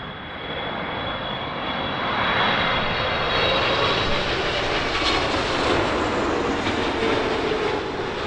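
A British Airways Boeing 777-300ER landing at Heathrow fills the air with a loud, steady jet roar that swells slightly midway and holds without a break, no voices over it.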